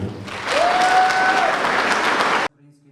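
An audience bursts into loud, sustained applause after a Ukrainian record is announced at a mass tactical medicine course, with a whistle near the start, before it cuts off abruptly.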